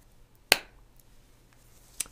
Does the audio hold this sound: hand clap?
yes